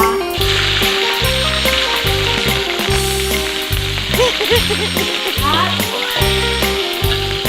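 Bell peppers stir-fry with garlic in a hot pan, giving a continuous bright sizzle and splatter under loud rhythmic background music, with a voice speaking at times.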